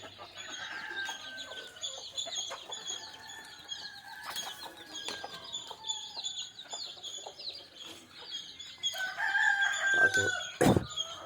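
Country chickens cluck inside a netted enclosure and a rooster crows loudly near the end, with wings flapping and scattered bird calls around a busy coop.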